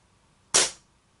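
A single sharp crack from a fully charged air gun on a full tank, close and loud, with a short decaying tail and quiet around it.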